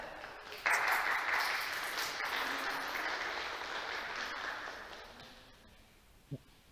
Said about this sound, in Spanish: Denle un aplauso a Azucena.